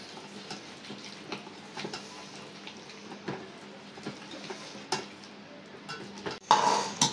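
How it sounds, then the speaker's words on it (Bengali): Spices with coriander, cumin, salt and mustard oil being mixed by hand in a bowl for fish paturi in a village kitchen, soft steady squelching and scraping strokes, ending in a louder clatter. "এখন সব মশলা আমি একসাথে মাখাই নিব।"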